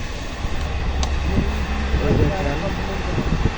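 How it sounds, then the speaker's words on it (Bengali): A large SAR passenger train passing in Saudi Arabia, a loud steady low rumble and rolling roar heard from nearby, with a person talking over it. "কত বড় ট্রেন সার কোম্পানির ট্রেন দেখেন তো"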